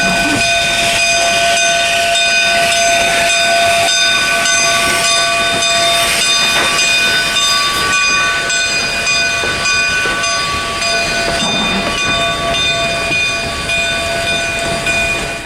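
A steam locomotive on the Cumbres and Toltec Scenic Railroad sounds a long, loud sustained whistle over the hiss and rolling clatter of the train, continuing for the whole stretch with no talk.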